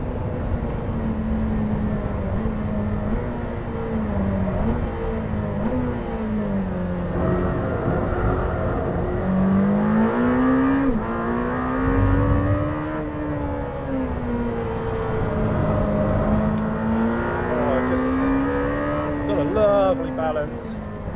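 Lamborghini Temerario hybrid supercar on a hot track lap, its engine droning loud and steady with rising and falling pitch through gear changes, close and continuous throughout.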